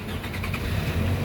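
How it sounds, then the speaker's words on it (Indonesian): A 2006 Toyota Camry 2.4 G automatic with its engine cranking and catching, a short, steady low rumble heard close with no talk. "sekarang kita coba nyalakan mobil"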